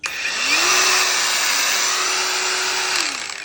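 An angle grinder spins up and runs steadily at high speed, a loud close whine that holds level for a few seconds before winding down, with no talk over it.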